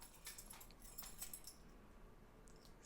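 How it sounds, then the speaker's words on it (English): Keys being moved onto a key pouch give faint, scattered metallic jingles and light clinks, close and quiet, with a louder knock at the very end. "then I can transfer my keys onto here"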